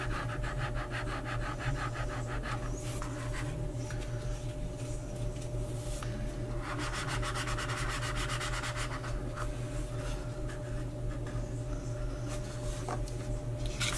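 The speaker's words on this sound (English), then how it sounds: "And I'm just rubbing it lightly to get it in place." A glued cardstock piece on a 3D UTV box model is rubbed lightly into place by hand, giving a soft, steady scraping rustle that continues for several seconds with faint rhythmic strokes and no talk.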